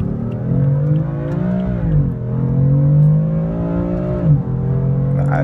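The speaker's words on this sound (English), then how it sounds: "Alright, let's give it some gas." A 2015 BMW M4 pulling hard under acceleration, its engine note climbing steadily in pitch with two brief dips at the gear shifts before rising again, loud and close throughout with no talking.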